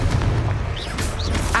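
A booming explosion burst from the Confringo fire spell in the video game Hogwarts Legacy, loud and close, with rumbling low end and bright crackling debris trailing over about a second and a half.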